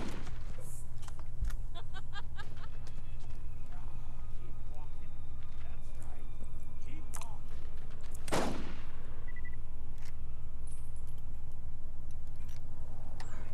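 Sniper rifle shots ring out in the Borderlands video game, a few sharp reports with one loud crack near the middle, set against steady game ambience and scattered clicks.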